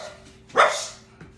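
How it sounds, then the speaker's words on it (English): A single sharp dog bark sounds indoors at moderate distance, followed by a softer short yip, over a faint steady background hum with no talk. "Don't mind my dog."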